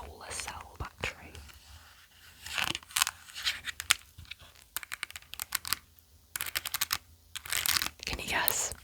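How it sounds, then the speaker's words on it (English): Fingers tap on the plastic keys of a pink solar-powered calculator made in Thailand, giving close, crisp clicks in irregular bursts, with soft whispering around them. "It's my trusty pink calculator, of course."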